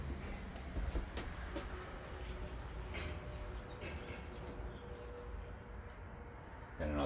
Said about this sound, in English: The truck going by was loud.